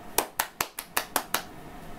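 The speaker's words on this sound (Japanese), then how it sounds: "拍手、" Seven sharp hand claps ring out in quick, even succession, close and crisp, with quiet gaps between them and no talking.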